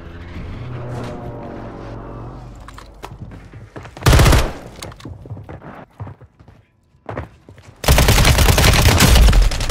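Gunfire in Call of Duty Warzone on Rebirth Island: loud automatic bursts rattle out in several clusters, with heavy sustained fire in the final seconds and quieter in-game clatter and footsteps between volleys.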